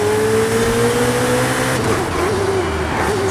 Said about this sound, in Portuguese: falar com o barulho desse motor, né? Meu Deus, que motor, que barulho.